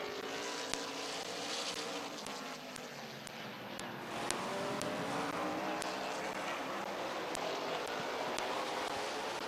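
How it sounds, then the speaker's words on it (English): Late model race cars roar around Midvale Speedway in an eight-lap heat race, engines rising and falling as the pack passes, with a public-address announcer talking over the noise and sharp clicks scattered throughout. "Getting ready to go green flag racing, 8-lap heat race number 1 for the McIntosh Oil Company late models is green."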